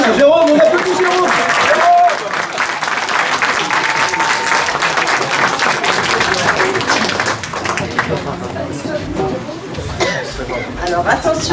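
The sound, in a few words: audience applause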